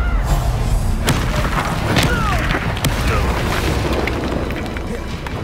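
An Incendio fire spell in Hogwarts Legacy going off in repeated booming bursts and crackling blasts amid combat noise, loud and dense, with shouting voices over it.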